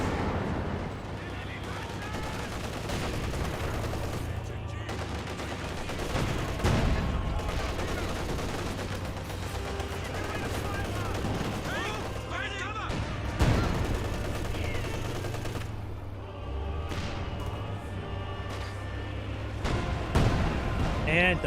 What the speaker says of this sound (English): Gets good hit there on the Panzer IV.